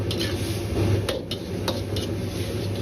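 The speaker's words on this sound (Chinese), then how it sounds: "这时候一定要放入适量的盐一起炒制，目的是让西红柿能够很快的炒至软烂翻沙。" Tomatoes stir-fried with salt in a wok, a soft sizzle with scraping and clinking of a spatula against the pan, close and moderately loud with irregular stirring strokes.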